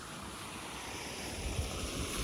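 Steady broadband rush of water flowing along a canal outdoors in the morning, continuous and fairly even with a few low rumbling swells, no voices.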